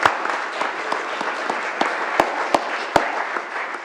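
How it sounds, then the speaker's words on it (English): A round of applause for a family member at a George Demeter Day gathering, steady mid-level clapping with a few sharp louder claps standing out, no voices over it. "Let's give her a round of applause."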